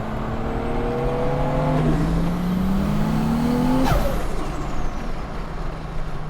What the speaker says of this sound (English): That flutter noise is unreal.